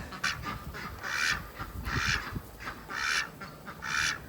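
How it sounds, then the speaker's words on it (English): Ducks quack repeatedly in a farmyard, about five loud rasping calls spaced roughly a second apart, fairly close, with quiet background rustle and no talk. "They're very pretty ducks."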